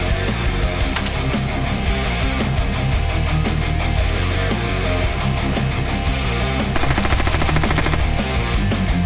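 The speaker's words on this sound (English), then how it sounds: "Across the street, there's a place where you can apparently rent machine guns." Machine guns fire in rapid bursts at a rental range across the street, a dense, continuous rattle of shots heard at a distance with a faster, louder burst near the end.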